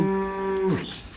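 A Jersey heifer at a sale yard in Punjab, Pakistan, gives a single loud, close moo that holds steady and then drops away, with no one talking over it.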